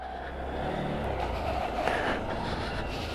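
A 2022 Honda Monkey 125cc motorcycle being ridden around town, giving a steady, moderately loud engine drone mixed with rushing road and wind noise, with no talking.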